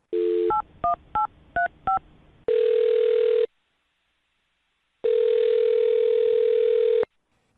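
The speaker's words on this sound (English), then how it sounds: "I'm going to dial his phone number right now" A short burst of telephone keypad tones, five quick beeps, then a steady dial tone that stops, pauses, and resumes for a couple of seconds.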